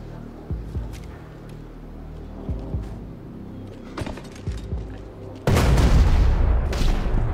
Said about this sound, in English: Who's this shooting, grenade launcher?